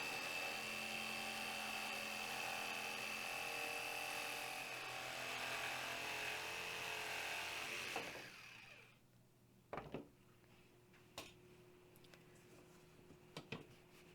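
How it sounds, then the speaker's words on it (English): A jigsaw buzzes loudly and steadily as it cuts through a cedar board, then stops abruptly, leaving a few faint clicks and knocks of the wood being handled. "I'm going to cut it out with a jigsaw"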